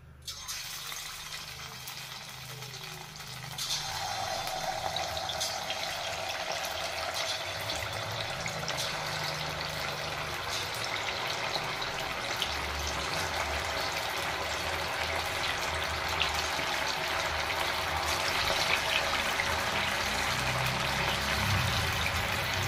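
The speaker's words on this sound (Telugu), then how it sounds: "ఆయిల్ బాగా వేడెక్కింది. ఇంకా ఇప్పుడు ఒక్కొక్క చికెన్ ముక్క వేసుకుంటాను." Chicken pieces dropped one by one into hot oil for pakodi. A quiet start gives way after a few seconds to a loud, steady, dense hiss of deep frying that carries on without pause, close up, with no talking.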